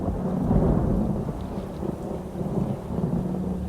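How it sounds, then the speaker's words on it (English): Thunder rolls deep and heavy through a storm over Hilton Head Island, with steady rain pelting the large glass windows of a lighthouse lantern room, a continuous low rumble and dense patter with no voices. "Lightning soon filled the skies over Hilton Head Island, and rain began pelting the large glass windows of the lantern room where Fripp tended to the light."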